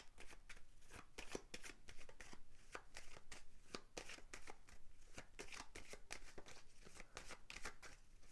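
Tarot cards are shuffled and handled in a fast, steady run of crisp riffling flutters, repeating continuously and close by at a soft level.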